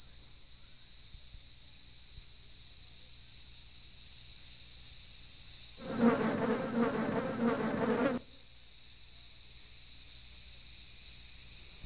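An Asian giant hornet flies in to oak tree sap, and its loud, low buzzing drone swells close by for about two seconds. A steady high insect chorus hisses throughout the forest scene.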